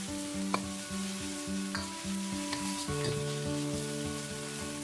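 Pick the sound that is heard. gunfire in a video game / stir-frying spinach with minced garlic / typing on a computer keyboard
stir-frying spinach with minced garlic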